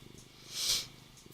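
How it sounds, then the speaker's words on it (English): A soft cat purr swells briefly and fades, faint and close, in an otherwise quiet room. "Can you hear him purring?"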